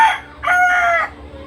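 A Boston breed gamefowl rooster crowing nearby, a short loud two-part crow that ends in a fading tail, alone with no talk.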